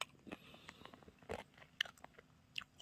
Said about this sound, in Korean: 좀 차갑게 굳어서 먹는데 맛있다.